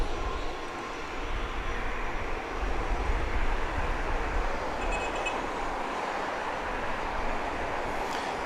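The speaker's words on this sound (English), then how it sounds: "here we go with these 2 jets doing a little end of runway ballet in order to make room for the incoming flight" Two jets taxi slowly at the end of an airport runway, their engines giving a low, distant rumbling drone that rises slightly midway and stays fairly faint throughout, with no talking.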